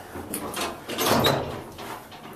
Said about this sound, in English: Door closes pretty quickly.